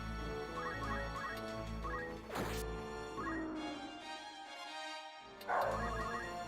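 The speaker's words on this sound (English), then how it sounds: "sounds like my dog is barking at something" A dog barks a few times in a room, clear and fairly close, over steady looping music from the Final Fantasy Tactics game on PlayStation, with a sharp hit and game sound effects cutting in.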